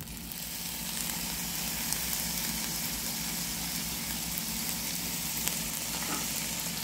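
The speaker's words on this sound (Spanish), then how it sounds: "Seguimos removiendo nuestro locrio de pasta." Steady, close sizzling of locrio rice with shredded sardines frying in a pan as it is stirred, a continuous crackle with occasional soft scrapes.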